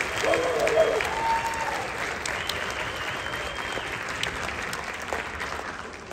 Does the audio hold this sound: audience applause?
yes